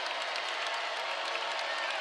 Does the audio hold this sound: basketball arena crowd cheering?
yes